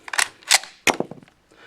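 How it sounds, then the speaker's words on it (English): A Lee Enfield rifle stripper clip kicked out as the bolt closes, a quick sequence of sharp metallic clacks and a clatter, close and crisp, with no talking. "And the clip, of course, will get kicked out."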